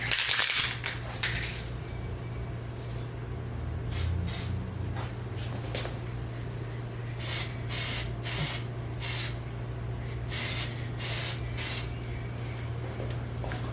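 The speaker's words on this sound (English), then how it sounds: "spray paint that matches the car, and then these two" Spray paint can applying car-matching paint to a plastic car part, heard as a series of close hissing bursts of varying length, separated by brief pauses, over a steady low hum.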